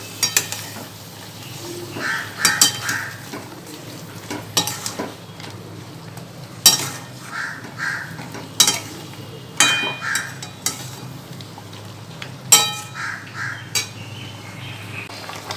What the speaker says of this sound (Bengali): আর একটুখানি নাড়াচাড়া করে নেব।